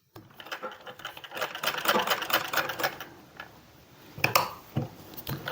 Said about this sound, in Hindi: यहाँ पर बिल्कुल किनारे किनारे से सिलाई लगानी है, बिल्कुल फिनिशिंग के साथ